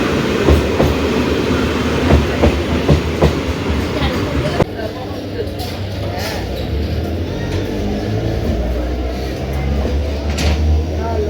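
A train at Kakdwip station rumbles along with a low, continuous roar and rhythmic rail clatter, close and loud, the tone shifting partway through as the carriage noise changes.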